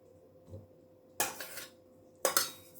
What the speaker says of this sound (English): So I'm just adding this to my Nutri Bullet container, ready for blending.